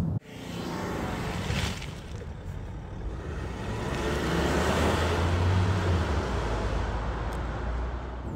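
A Land Rover Discovery 3.0-litre six-cylinder diesel engine runs steadily with a deep low rumble, swelling a little louder midway before settling back into a constant drone.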